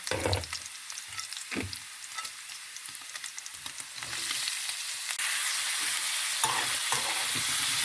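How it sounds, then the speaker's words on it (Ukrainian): Chopped onion and pork belly cracklings fry in a pan for macaroni with cheese, giving a steady close sizzle that grows louder and denser midway, with scraping stirring sounds early on. "Зараз вона обжариться із шкварками."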